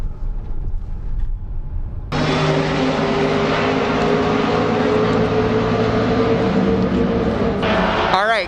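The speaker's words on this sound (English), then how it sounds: "there's tons of race car noise going on" Race cars circling Lime Rock racetrack, a steady loud engine drone that jumps up sharply after a quieter opening and keeps going without a break, with a brief higher whine near the end.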